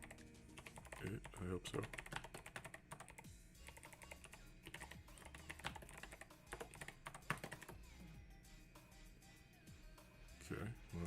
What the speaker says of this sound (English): So some typing here